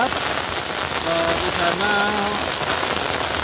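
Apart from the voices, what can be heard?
rain falling in a village during rainy season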